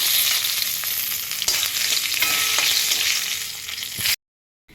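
Cumin, a dried chilli, cloves, cinnamon, cardamom and bay leaf temper in hot oil for duck egg curry, a loud close steady sizzle with some stirring, cutting off abruptly near the end.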